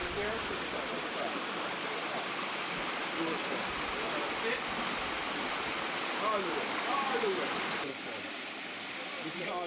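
Small jungle stream beside a steep hillside path in Jamaica, a constant broadband rush of flowing water, close and steady throughout with faint background voices.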